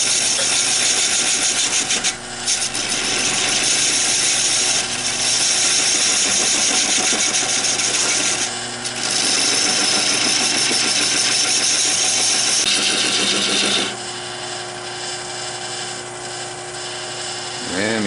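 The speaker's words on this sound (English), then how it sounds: "Let me sharpen it up." A high-speed bench sharpener whines steadily as a woodturning tool is ground on it, a loud continuous motor drone with rough grinding texture that dips briefly twice, then drops to a quieter hum near the end.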